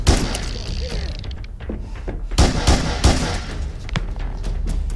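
Gunshots in a film scene ring out with heavy reverb, several loud booming blasts with long echoing tails amid other noise.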